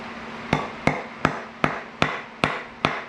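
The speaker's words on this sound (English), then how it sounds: "And I take my hammer and I smash down, actually push it into the wood." Hammer blows driving wires down into wood resting on concrete or an anvil top, seven sharp evenly spaced strikes with short ringing decays, close and loud with no talk.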